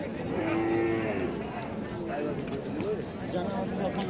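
A cow with her calf at a busy Thursday village cattle market in Bangladesh, with a clear drawn-out moo near the start and further lowing amid steady crowd chatter and people talking throughout.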